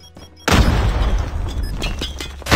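A Semtex grenade detonates in a Search and Destroy round of a first-person shooter, a sudden loud booming blast with a long rumbling, crackling tail that fills the whole moment.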